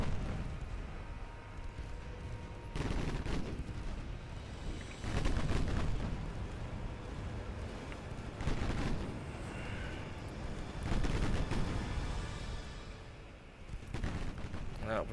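Naval gunfire in Ultimate Admiral Dreadnoughts from triple 7.9-inch guns: four or five loud booming salvos spaced a few seconds apart, each with a rolling tail, over a low ambient rumble and occasional faint talk.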